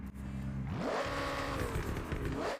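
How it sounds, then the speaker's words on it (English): A McLaren V8 engine of nearly 1,000 horsepower revs in the racing game Forza Horizon 6, its pitch sweeping up and then holding a loud, steady drone with no voices. "Judging by the sound, it's a McLaren engine."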